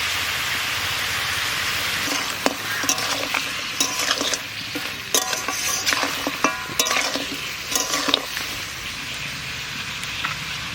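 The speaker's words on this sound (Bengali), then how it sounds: "তারপরে প্রথমে নুন দিয়ে ভালো করে একটু কষিয়ে নেব।" Goat mutton head is sautéed with salt in a pan, village-style, a loud continuous sizzle broken by repeated scraping and stirring strokes of a spatula close at hand, with no speech.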